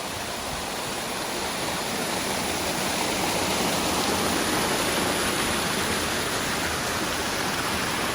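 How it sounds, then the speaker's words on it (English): A small waterfall in Waterfall Valley on the Cradle Circuit gives a steady, close, full rushing roar of falling water, unbroken throughout and with no voices. "Another little waterfall in the valley."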